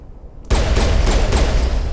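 Dense squad gunfire rattles through a Mass Effect 1 firefight, bursting in abruptly after near-silence and continuing loud and steady with overlapping shots.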